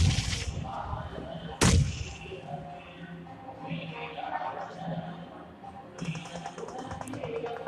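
Loud gunfire in a PUBG-style clan match, with a sharp shot burst near the start and another strong crack soon after, over continuous game noise, distant shots and bullets passing. Faint voices may sit underneath.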